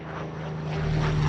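Military aircraft fly at the Miramar air show, a loud, steady propeller-engine drone with a strong low hum that swells slightly as the plane nears, with no voices.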